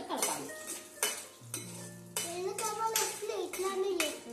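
Food being stirred in a metal pan by children cooking a snack at home, with repeated scraping and clinking of a utensil against the pan, a faint sizzle underneath and brief children's voices around it.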